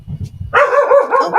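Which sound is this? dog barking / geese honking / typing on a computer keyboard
dog barking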